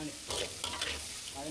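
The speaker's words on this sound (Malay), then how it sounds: "Tumis cili bo tu pecah minyak dulu dah." Chili paste stir-fried in hot oil until the oil separates, a soft steady sizzle with brief scraping stirs, fairly faint and with no talk.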